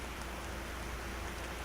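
Steady rain in the video game Vergel, a soft, even hiss of falling drops at low level with no talk over it.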